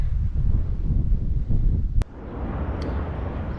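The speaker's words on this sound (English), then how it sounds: "look at the wind through these trees here" Wind rushes through trees and buffets the microphone on a countryside hike near Chavannes-de-Bogis, a loud rumbling gust that cuts off abruptly after a sharp click and leaves a softer airy hiss.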